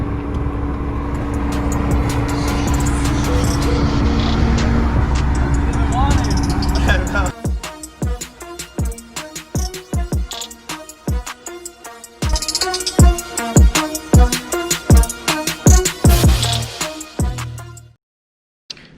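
A 2020 Toyota Supra GR engine idles steadily and loudly, then gives a series of sharp, repeated revs with quick bursts and drops, while people talk nearby.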